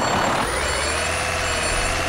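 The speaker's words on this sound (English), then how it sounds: "Let's try to back up." A Kenworth truck with a 1020 HP engine in Euro Truck Simulator 2 reverses, steady reversing beeps sounding over a constant engine drone, loud and close with no talk.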